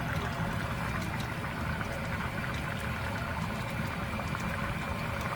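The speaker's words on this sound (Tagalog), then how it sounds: "Yun, kumukulo na siya." Tuna and eggplant stew in coconut milk boiling in a pot, a steady dense bubbling and simmering hiss that runs continuously at even loudness.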